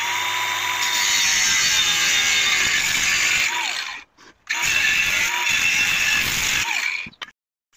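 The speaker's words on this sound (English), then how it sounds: "Next job is to cut the right angle at 59 centimeter sections." Steel angle iron being cut into sections for a scrap-metal garage workbench, a continuous loud abrasive grinding and cutting noise over about four seconds, a brief pause, then a second cutting pass before stopping.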